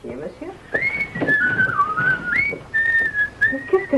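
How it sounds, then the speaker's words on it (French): A man whistles a bright, wavering tune close by, the melody sliding up and down in long phrases while indistinct voices murmur quietly underneath. "Qu'est-ce que tu as sifflé comme un pinson ce soir?"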